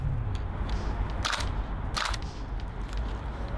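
A VFC MP5 gas blowback airsoft gun fires BBs outdoors in two short bursts of sharp, snappy cracks that stand above a constant wind-like rush.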